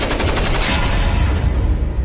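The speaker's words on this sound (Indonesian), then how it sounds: "Liu melesatkan tembakan hingga musuh tewas dengan luka tembak di kepala." Loud, close gunfire from a sniper in a war film: a dense, crackling burst of shots fills the whole moment, booming and harsh, with no voices.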